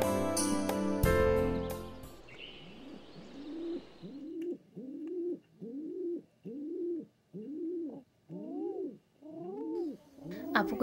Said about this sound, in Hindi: आपको ये कबूतर आवाज सुनी ने गुटर गुं को तो बेल बेल लगने ने।